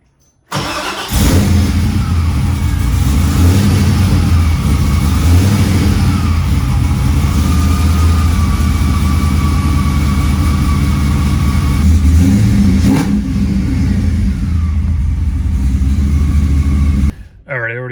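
A car engine with a newly installed fuel pump cranks and catches, then runs steadily for about sixteen seconds with occasional revs, loud and close throughout before cutting off near the end.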